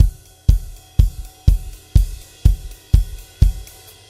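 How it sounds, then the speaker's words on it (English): Drummer playing a song's beat, steady evenly spaced strikes about twice a second, each a sharp loud hit with a ringing decay, close and alone. "8 notes on the cymbal"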